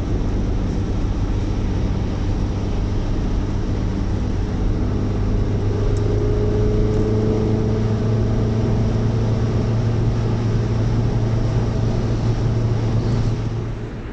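Steady interior drone of a car cruising at 110 km/h in sixth gear, a continuous low engine and road hum with faint wind noise, unchanging and unbroken for the whole stretch with no talking.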